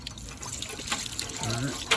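Water trickles slowly from the drain of a clogged water heater during a flush, a faint, uneven dribble and splash lasting two seconds with a short gurgle near the end.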